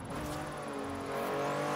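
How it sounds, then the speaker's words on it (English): A Porsche engine in Forza Horizon 3 drones and revs steadily, a continuous close engine note with no talk. "This Porsche sounds amazing"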